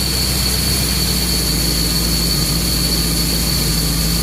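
A boat engine idling near 500 RPM, a loud, steady drone with a constant high whine over it and no breaks.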